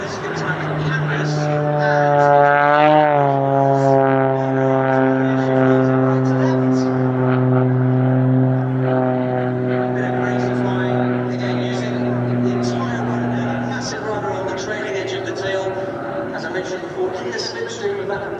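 A propeller aircraft flying aerobatics at the Sywell Airshow 2024 makes a loud, steady droning engine tone that swells and shifts pitch early on, then holds, with an announcer talking over it.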